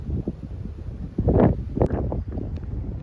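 Strong wind gusting across a seaside golf links, a steady broadband rush with louder swells and buffeting against the microphone, no talk over it.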